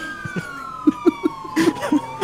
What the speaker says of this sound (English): Hit her with the double siren.